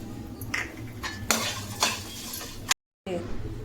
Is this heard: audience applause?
no